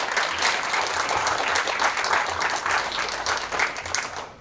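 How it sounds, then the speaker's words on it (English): A pregame crowd at a high school football honor bowl applauds steadily, dense clapping at moderate distance holding for several seconds. "Let's give a clap for Freddie Torres."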